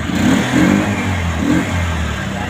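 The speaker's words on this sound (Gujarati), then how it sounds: "ગાડી ચાલુ" A TVS Duramax motorcycle fitted with a self-start starts by push button and then revs, its mid-pitched engine rising and falling in loud close surges.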